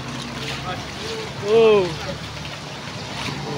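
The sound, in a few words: flood water waves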